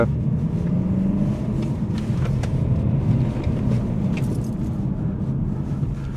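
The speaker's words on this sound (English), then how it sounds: "Let the Mondeo go and I'll show you around this roundabout." A BMW 320Cd E46 diesel coupe drives around a roundabout, heard from inside as a steady low engine drone and road rumble with some wind noise, no talking.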